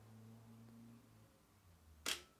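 A Canon DSLR camera, a 1500D, closes its shutter after a long night exposure, giving one sharp mechanical click near the end after a quiet stretch with a low hum.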